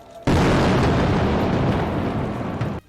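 An Israeli missile strike explodes in Syria at night, a sudden loud blast that swells into a dense, rumbling roar and holds for over two seconds before cutting off, with no voices.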